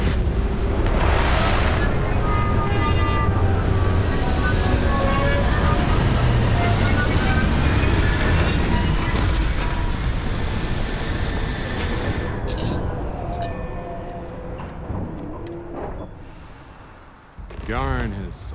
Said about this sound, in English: Beginning landing cycle